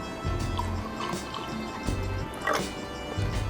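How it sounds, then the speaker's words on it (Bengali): Sting energy drink poured into Bangla liquor in a glass makes several separate splashing, gurgling pours with short pauses between them, close and fairly clear with no talk. "এর সাথে ঢালবো স্টিং।"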